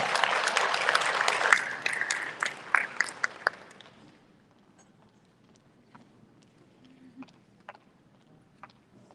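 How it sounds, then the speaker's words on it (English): Audience applause at a datathon opening ceremony, a burst of dense clapping that thins out after a few seconds, leaving scattered claps in a quiet room. "So give them a round of applause"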